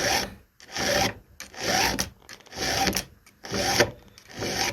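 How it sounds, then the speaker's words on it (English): A hand file rasps across the teeth of a brand-new chainsaw chain in steady strokes, about five bursts of gritty scraping separated by brief pauses, close and fairly loud with no talking. "I don't like filing a brand new chain"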